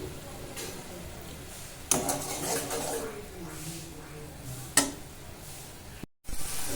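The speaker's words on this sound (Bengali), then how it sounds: "যতক্ষণ না মশলা থেকে তেল বেরিয়ে যাচ্ছে ততক্ষণ ভালোভাবে কষিয়ে নিতে হবে।" Spices fry in hot oil in a pan for a paneer and cauliflower dish, a soft continuous sizzle broken by two sharp scrapes of stirring and a brief cut near the end.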